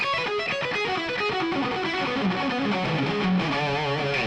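A heavily distorted electric guitar plays a quick pentatonic lick, with bends and fast runs, loud and continuous without any talking.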